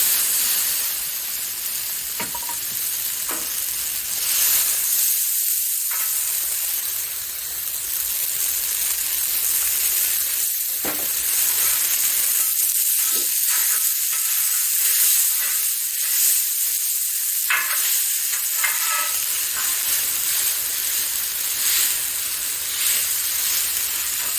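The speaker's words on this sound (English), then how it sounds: "Now we're going to put on some noodles." Noodles frying on a Blackstone flat-top griddle give a steady, loud sizzle and steamy hiss that runs nearly unbroken, with a few brief clatters of utensils scraping the hot surface.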